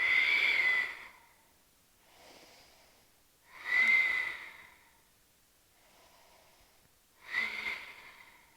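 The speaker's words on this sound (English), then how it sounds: "Take 3 breaths here." Three slow breaths drawn in and out through the nose, each a close, airy rush that swells and fades, spaced a few seconds apart with quieter exhales between, no talking.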